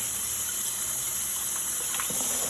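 A tap runs steadily in a sink while raw baby back ribs are rinsed, giving a continuous gushing hiss with faint handling sounds underneath.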